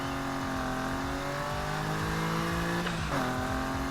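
A BMW M2 engine in Need for Speed Heat drones steadily while driving, with a tonal whine climbing through the gears and a brief dip at a shift, loud and continuous with no voices.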